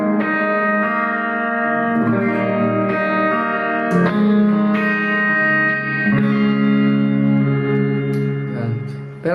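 An electric guitar plays sustained chords and notes through a reverb effect turned up to a long decay, loud and close, each strum blooming into a lingering wash of reverberation.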